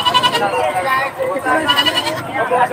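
Goats, a mother with her young, bleat repeatedly at a livestock market in Padre Garcia, Batangas, with loud, quavering cries close by, overlapping one another amid voices.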